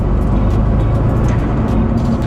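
Lingenfelter 427 twin turbo Corvette accelerating hard, a loud continuous engine roar with turbo whooshing and hiss layered on top, heard from inside the car with no talk.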